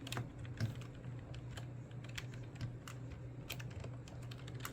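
Computer keyboard keys are tapped in quick irregular bursts during PC gameplay, with close, soft clicking over a low steady hum from an old desktop computer.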